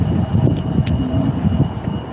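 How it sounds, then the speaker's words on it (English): Airplanes landing and taking off at a busy airport, heard as a steady, loud engine roar and rumble held throughout with no talk. "watching planes land and take off"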